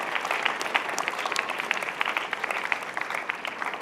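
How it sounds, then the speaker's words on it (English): Graduation ceremony audience applauding a musical group: a sustained, even rattle of many hands clapping at moderate distance, with no talk over it. "let's give them another round of applause"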